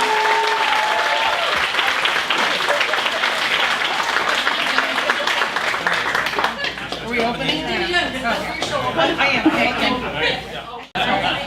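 Applause for the nominees at a community gala honoring local members, attended by a royal guest: sustained, dense clapping from a large audience that thins into chatter and scattered claps near the end, with voices mixed in.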